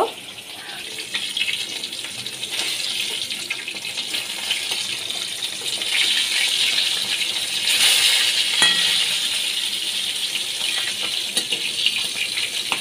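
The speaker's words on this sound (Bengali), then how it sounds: "বাদ বাকি মাছগুলো আমি ভেজে নিচ্ছি" Katla fish pieces frying in oil, a continuous hissing sizzle that swells a little midway, heard close with occasional clinks and no talk.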